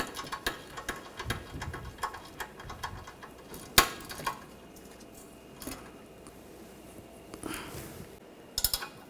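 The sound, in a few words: 18mm ratchet wrench tightening a control arm bolt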